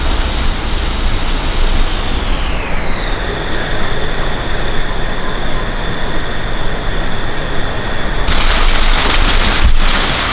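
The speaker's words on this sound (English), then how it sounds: "So that thunderstorm is here now" Thunderstorm rain pours down loud and constant outside a hunting blind, a heavy unbroken wash of noise with a thin steady whine riding over it.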